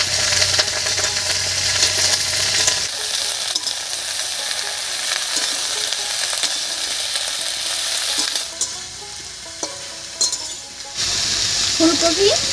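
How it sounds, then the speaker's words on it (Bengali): Cauliflower, cabbage, carrot and potato frying for vegetable khichuri, a loud continuous sizzle with clattering stirring and scraping, easing slightly partway through, then strong again, close with no talk. "ফুলকপি, বাঁধাকপি, গাজর আর আলুটা আগে দিয়েছি, একটু নাড়িয়ে নিয়েছি।"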